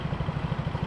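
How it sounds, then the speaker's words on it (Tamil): A grey motorcycle's exhaust putters in a steady, fast low rhythm, fairly faint and continuous. "எக்ஸாஸ்ட் சவுண்ட் வேற மாதிரி."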